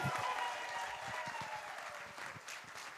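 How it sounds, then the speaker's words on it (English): Applause from a conference audience, a dense patter of many hands that starts strong and slowly fades over a few seconds, heard from a moderate distance without speech. "A round of applause to her."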